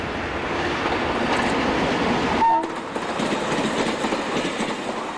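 Portuguese 1800 class diesel locomotive hauling an intercity train from Barreiro to Beja, a loud close roar of engine and wheels rushing past, with a brief horn note midway and the sound easing afterward.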